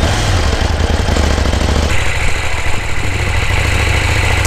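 A KTM 790 Duke motorcycle engine runs with a loud, continuous low drone and heavy wind rumble, the engine tone shifting partway through as it rides on.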